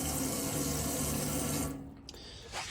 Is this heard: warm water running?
yes